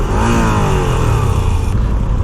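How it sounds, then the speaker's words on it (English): Moto Guzzi V7 Stone motorcycle engine revving up close, a loud, rough throbbing drone that rises in pitch, then holds steady, continuous throughout with no talk over it. "When you rev it, kind of wants to do that little twist right there"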